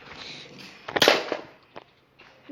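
A bicycle helmet is struck and cracks with a sharp, loud snap near the middle, followed by a few smaller knocks. It is close and brief, and a voice is faintly heard at the end.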